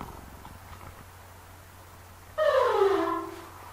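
A cat purrs in the Code Monkey puzzle game, a soft steady purr rising suddenly over faint game music and continuing loudly for about a second before easing off.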